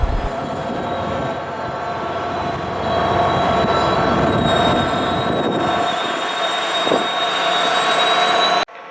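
A SunRail commuter train passes on double track near a station in Kissimmee, a sustained rumble of wheels on rail with high squealing tones from the wheels, fairly loud and steady, tapering off near the end, no voices.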